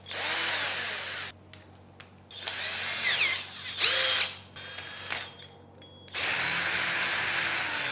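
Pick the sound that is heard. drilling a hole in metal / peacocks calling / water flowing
drilling a hole in metal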